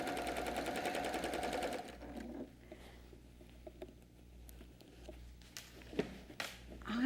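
A sewing machine runs in a quick rapid burst for under two seconds while free-motion quilting a diagonal spiral, followed by quiet handling taps and light rustles.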